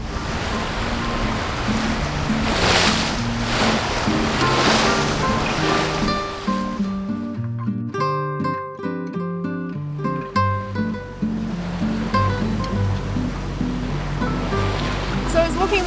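Ocean waves surge and wash loudly around a sailboat leaving the Monties for the open sea off a wild west coast, with music rising over the water noise in the second half.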